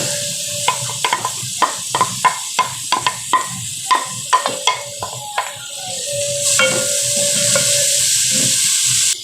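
Cabbage stir-fried in a pan for Indian-style macaroni pasta: a run of sharp, regular scrapes and clacks of a spatula over a steady sizzle, close and fairly loud, with the sizzle swelling louder toward the end.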